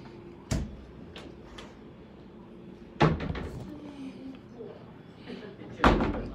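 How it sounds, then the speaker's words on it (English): A hotel suite door to an adjoining room, heard as sharp knocks and thuds at the start, middle and end, with one firm slam-like hit near the middle and voices talking quietly in between. "Door to an adjoining room."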